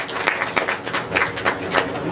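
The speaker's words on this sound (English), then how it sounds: "another round of applause." A smaller indoor audience at an academic proteomics and AI event gives a thin, sparse burst of clapping, with a few distinct hand claps standing out over a soft background.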